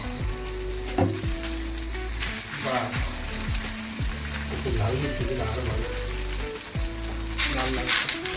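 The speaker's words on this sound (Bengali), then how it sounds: "আর এক পাশও উল্টে দিয়ে কলার পাতা দিয়ে ভেজে নিতে হবে" Rohu fish wrapped in banana leaf frying in mustard oil gives a steady, close sizzle with occasional scrapes and taps from a utensil, and a voice talks over it at times.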